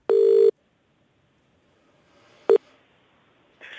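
A phone call being placed: a short loud electronic tone, a pause with faint line noise, then a second brief beep and the start of a buzzing ring tone, all clean and close without voices.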